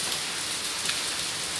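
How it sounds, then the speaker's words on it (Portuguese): Light morning rain falls in Campinas, São Paulo, a soft, even hiss of drops on surfaces nearby with no break over the short stretch. "mostrando pra vocês essa bela chuvinha de hoje"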